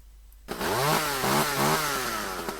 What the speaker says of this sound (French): C'est quoi? Tronçonneuse.